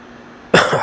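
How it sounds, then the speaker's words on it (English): One sudden, loud cough close to the microphone breaks a quiet room, a rough burst followed by a short second push of breath. "I was coughing for a second."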